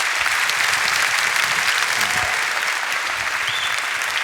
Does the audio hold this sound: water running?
no